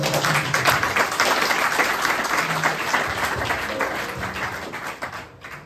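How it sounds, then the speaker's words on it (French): A church congregation breaks into loud, sustained applause, dense clapping filling the room for several seconds before tapering slightly at the end. "Est-ce qu'on peut acclamer la merveilleuse personne?"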